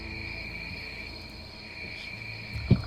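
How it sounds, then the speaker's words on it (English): Crickets chirp in a steady, shrill, unbroken drone that stays at an even level throughout, with a brief low thump near the end and no one talking. "Crickets are too loud."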